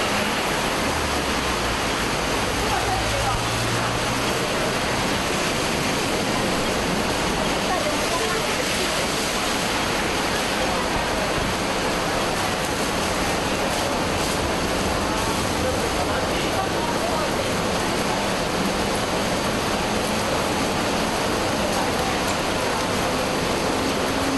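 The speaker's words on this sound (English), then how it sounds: "Let's check out the water splash sounds some 30 meters away." Water splashing in the rain about 30 meters away, a steady, dense hiss of falling rain and distant splashing that continues evenly throughout with no clear breaks.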